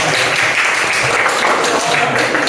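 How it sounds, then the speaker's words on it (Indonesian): Classroom of eighth-grade students giving a classmate a dense burst of applause, loud and continuous with some voices underneath. "Tepuk tangan untuk teman saya yang bermanfaat"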